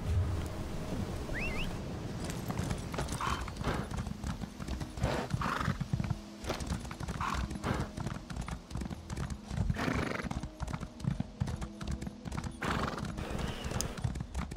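Steady clip-clop of horse hooves from a mount ridden through open, enemy-free terrain in The Rift, with an occasional whinny over a continuous background bed of game ambience.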